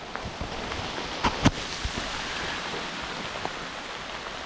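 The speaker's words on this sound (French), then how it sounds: "Super, une averse de grêle maintenant" Dense, hissing patter of a hail shower falling continuously outdoors, with a few sharper close impacts standing out near the start.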